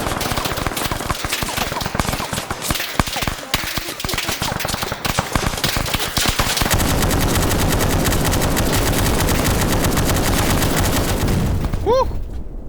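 In a video game, a PK machine gun fires in rapid, loud sustained bursts that merge into a dense roar of gunfire for most of the stretch.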